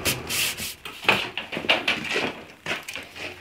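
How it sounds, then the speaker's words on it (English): Rough rhythmic strokes of sandpaper scrub back and forth over a wooden kitchen island top, close and scratchy, repeating in quick uneven passes. "Now I will even sand the top down just to clean up whatever marks the iron made."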